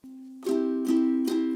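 A ukulele plays the second verse of a song: one held chord, then three bright strums in quick succession, close and alone.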